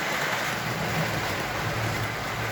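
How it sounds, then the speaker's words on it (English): A model train runs along a high-rail main line oval track, producing a continuous loud rushing, rumbling rail noise that holds steady throughout with no distinct chuffing audible. "I got so much rail noise you can't even hear the chuff."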